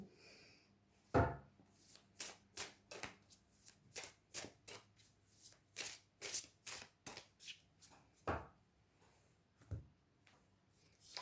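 Elki oracle cards are shuffled by hand in a series of crisp, rhythmic riffling bursts, close and quiet, repeating steadily with a few heavier taps along the way.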